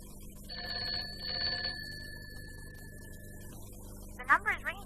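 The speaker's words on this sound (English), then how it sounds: "The number is ringing all right." A faint, tinny ringing tone comes over a telephone line against background hiss, followed by a brief warbling sound.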